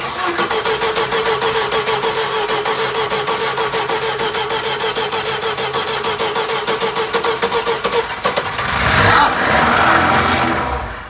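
A 1985 Ford Fiesta engine cranks and runs with a steady mid-pitched rumble for most of the stretch, then revs up louder near the end, close by with no talk over it.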